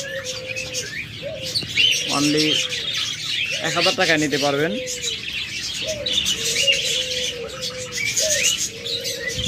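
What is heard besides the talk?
caged pet birds chirping at a bird shop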